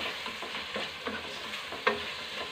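Food sizzles in a hot pan, a continuous crackling fry with occasional scraping from stirring. A louder clack of a utensil against the pan is heard near the end. The cooking is for tomato-sauce pasta.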